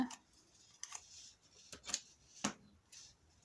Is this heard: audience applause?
no